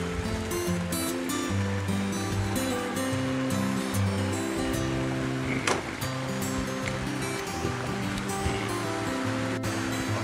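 A ladle of pancake batter for elanji cooks in a hot pan, giving a continuous soft sizzle and hiss throughout, with sustained music tones over it.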